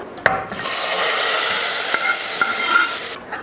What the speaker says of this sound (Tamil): இப்போ ஸ்டவ் ஆஃப் பண்ணிவிட்டு சாம்பாரில் ஊற்றிடலாம்